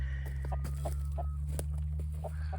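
Roosters on a farm cluck in short, repeated bursts at a moderate distance over a steady low hum, with a few sharper clicks mixed in.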